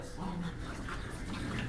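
Several dogs whimper and whine softly in a home setting, a steady low murmur of canine whining with faint voices around them.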